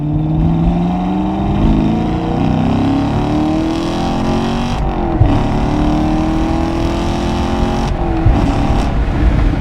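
A 2017 Chevrolet Camaro SS 1LE, with a 455-horsepower V8, accelerates hard, its engine note climbing through gears with brief breaks between shifts, loud and close, no talking.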